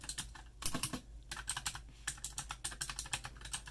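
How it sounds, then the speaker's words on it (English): Fast, clicky typing on an RGB mechanical gaming keyboard with Dragon blue switches, up close, with short bursts of keystrokes and brief pauses between them, and no talking. "This is the keyboard. It is RGB and I have Dragon blue switches underneath."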